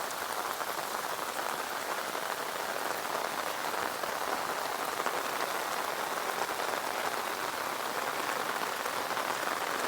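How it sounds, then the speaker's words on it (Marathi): Heavy monsoon rain pouring onto paddy fields in Konkan, a dense, even hiss of countless drops hitting surfaces, steady and close with no pauses or voices. "आणि पाऊस चालूच आहे तुम्ही बघू शकता"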